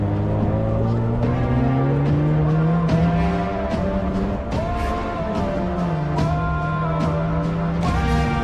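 Race cars roar around a track with continuous whining engines, repeated gear shifts and bursts of tire squeal, loud and close throughout.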